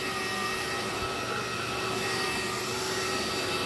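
A cordless vacuum cleaner runs in a living room, giving off a steady, loud whirring motor drone with a high whine that holds constant throughout, with no talk.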